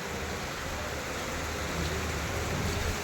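Heavy morning rain falls as a steady, dense hiss that stays even throughout, soft and distant, with no voices and no distinct drops.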